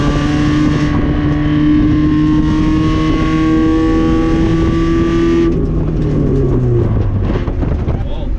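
A budget Honda CRX, just fitted with rust repairs and a new exhaust, drones loudly from inside the cabin on a test drive, holding a steady engine tone before the revs shift and fall away, with a voice audible underneath.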